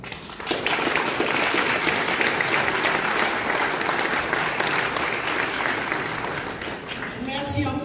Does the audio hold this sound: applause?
yes